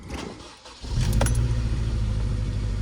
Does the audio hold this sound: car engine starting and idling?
yes